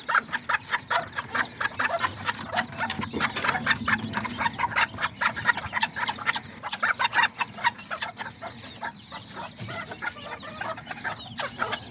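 Miniature chickens, Aztecas and Seramas, with a mother hen and her chicks, cluck and peep continuously nearby. Rapid overlapping clucks and chirps fill the scene, with a brief crow-like call among them.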